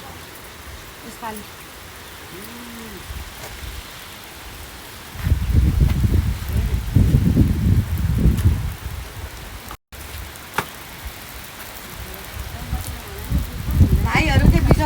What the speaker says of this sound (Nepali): उता हेर हेर पानी परेको